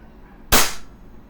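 A single sharp, loud shot from an EMG STI JW3 airsoft pistol during a velocity test, a crisp snap with a short tail over quiet room tone.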